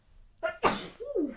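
A single close sneeze bursts out after a short intake of breath, followed by a brief vocal sound as it trails off.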